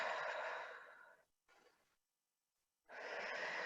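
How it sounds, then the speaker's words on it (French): Two slow, deliberate conscious breaths taken during a meditation exercise: a long airy exhale, a brief quiet inhale, then another breathy exhale starting, close and soft with no talking. "vous allez pratiquer quelques respirations. Quelques respirations conscientes."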